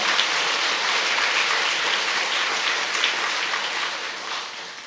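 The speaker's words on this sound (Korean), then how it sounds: "깊은 감사의 박수를 올려주시기 바랍니다" A congregation at a Korean church worship service claps in a dense, steady wash of applause that holds evenly for several seconds and tapers slightly at the end.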